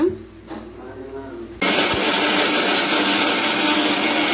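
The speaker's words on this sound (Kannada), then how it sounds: "ಮತ್ತು ಬೆಳ್ಳುಳ್ಳಿ, ಮತ್ತು ಶುಂಠಿ, ಮತ್ತು ಹಸಿಮೆಣಸಿನ್ಕಾಯಿ ನುಣ್ಣಗೆ ಪೇಸ್ಟ್ ಮಾಡ್ಕೊಳ್ಳೋಣ" Mixer grinder pulsing garlic, ginger and green chilies into a fine paste, a loud steady whir that cuts in abruptly after a quieter moment and runs on without a break.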